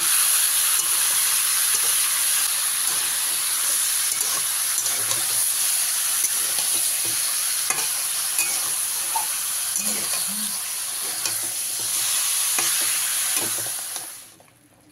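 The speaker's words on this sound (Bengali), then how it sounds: "দিয়ে চিকেনটাকে হালকা কিছু সময় নেড়ে নেবো, যতক্ষণ না চিকেনের গায়ে এরকম একটু সাদা সাদা স্পট পড়ছে।" Chicken pieces sizzle steadily in a hot pan for a dhaba-style chicken masala, with scattered scraping stirs and small clatters over a continuous bright hiss that fades out at the end; no talking.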